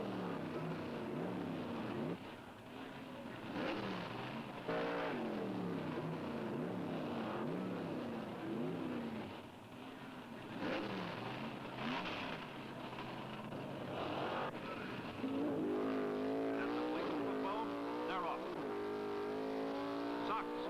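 Pro Stock drag race cars in a semifinal run howl with loud, sustained engine roar and rising revs that swell and fade, heard under a commentator's talk throughout.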